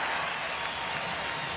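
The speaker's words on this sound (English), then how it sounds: "The crowd got a little loud on that play" A loud, dense roar of a stadium crowd at an NFL football game between the L.A. Rams and Kansas City, a continuous wash of cheering and clapping filling the whole short moment.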